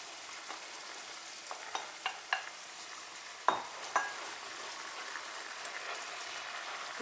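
Onion and mushroom fry in a pan with a soft, constant sizzle, broken by a few sharp scrapes and taps as a utensil stirs them, close by and with no voices.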